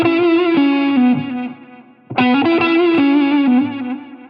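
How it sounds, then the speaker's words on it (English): Clean electric guitar on the neck single-coil pickup of a Fender-type instrument, volume fully up, playing ringing sustained notes and double-stops with a brief pause midway, then a fresh phrase, bright and slightly chorused. "we're going to be on the neck pickup, a single coil style guitar"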